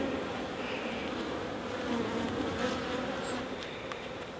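A dense swarm of honey bees hums loudly at an open, heavily laden beehive, a steady close drone with no talking over it.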